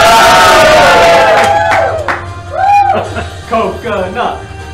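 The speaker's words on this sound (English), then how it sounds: "Cheer on, everyone!" A game show audience at a live-streamed contest cheers in a loud burst that quickly thins into scattered excited shouts and chanting voices close by.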